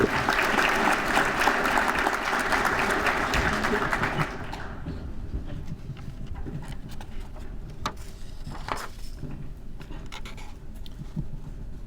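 A room of people at an annual meeting applauds the awardees with loud, dense clapping for about four seconds, which then drops away to quiet room noise with a few stray taps.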